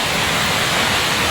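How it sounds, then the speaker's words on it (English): A full, fast-running river rushes in a dense, continuous roar of water, loud and steady throughout. "The river is running so fast."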